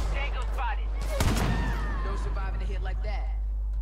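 A sharp sniper rifle shot cracks out once in the Far Cry 5 video game, a loud broadband burst followed by a short rumbling tail, set against a constant low hum and game ambience.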